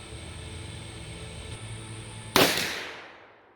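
A Ruger Super Redhawk revolver fires a Winchester 240 grain round: one loud, sharp shot over steady outdoor background noise, followed by a decaying echo.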